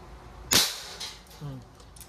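A Crosman MagFire Ultra .177 break-barrel air rifle fires one sharp, loud crack, followed by a fainter mechanical clunk about a second later.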